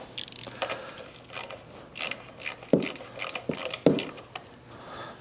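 A hand tool free spinning on a stuck primary case fastener of a 1974 Harley XLCH chopper: light ratcheting clicks in irregular bursts with a couple of sharper metallic clanks, close up and fairly faint.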